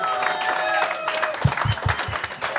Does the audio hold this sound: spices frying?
no